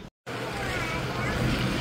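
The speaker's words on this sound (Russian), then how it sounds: "Реально моторная лодка." A motorboat engine runs on the water near Georgetown, Washington, D.C., a steady droning hum with wind and water wash. A brief cut-out comes near the start.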